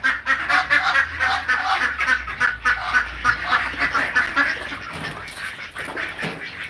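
Ducks quacking in a steady, busy chorus of nasal calls, fairly close and loud throughout, easing slightly toward the end.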